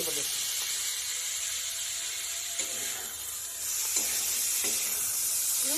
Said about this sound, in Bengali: দেখো টমেটো দিয়ে দিচ্ছি